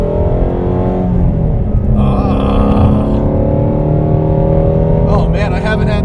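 A Ford Shelby GT350 engine drones loudly and steadily from inside the car while driving, a rich low rumble with a rising tone, as people talk over it.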